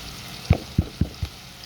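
Brinjal pieces frying in oil and being stirred in a pan, four short spoon scrapes in quick succession over a soft background sizzle, close and fairly distinct.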